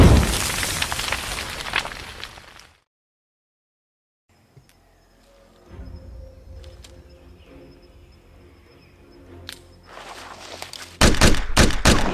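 Bursts of aimless gunfire open and close the scene, loud broadband volleys at the start and a rapid cluster of sharp shots near the end, separated by quiet stretches with faint tonal background sounds.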